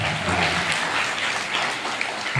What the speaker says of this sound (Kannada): ಜೋರಾಗಿ ಒಂದು ಸಾರಿ ಚಪ್ಪಾಳೆ ಹಾಕಿ